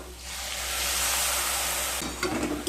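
Spice paste with turmeric and chili powder frying in a pan for a Bengali fish curry, a continuous loud sizzle and hiss with faint stirring scrapes near the end.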